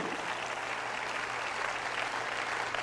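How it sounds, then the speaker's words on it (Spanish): Steady, dense crowd applause at a Catholic religious service, broad and continuous throughout, with no pauses or talking. "Dale un fuerte aplauso a Jesús de Nazaret"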